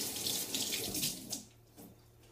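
Chili peppers bought from an Asian store are rinsed under a running kitchen tap, a steady close rush of water that thins out and fades over about two seconds.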